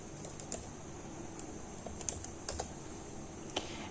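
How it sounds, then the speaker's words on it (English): Fingers tap out text on a computer keyboard in light, irregular keystrokes, with a few sharper clicks standing out over a steady background hiss. "Now type the text, any text here."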